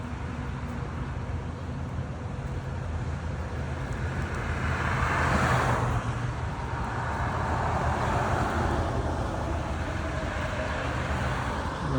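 Steady roar of road traffic close by, with a vehicle swelling louder as it passes midway and another rushing by later.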